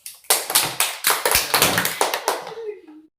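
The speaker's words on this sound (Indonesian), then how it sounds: "beri tepuk tangan dulu" A class of children claps hands together in a quick rhythmic burst of about a dozen sharp, loud claps that trail off into a faint voice at the end.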